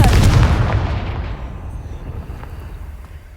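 A Confringo blasting spell explodes in the Hogwarts Legacy video game, a single loud, deep boom that rolls and slowly fades over a few seconds.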